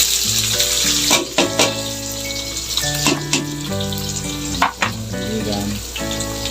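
Onions fry in a pan with a steady, bright sizzle running throughout, accompanied by melodic tones and a few sharp knocks.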